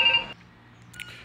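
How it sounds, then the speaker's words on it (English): A phone ringing: one short electronic ring tone that cuts off abruptly, followed by near silence and a faint chirp. "Phone's ringing."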